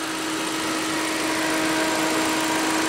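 The 1.6 liter engine of a 2015 Ford Fiesta idles steadily under the hood, a constant close hum with a cooling fan whirring alongside, unchanging throughout and with no one talking.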